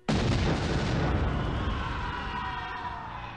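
A bomb blast in a film action scene, one loud sudden boom with a long rumbling decay that slowly fades.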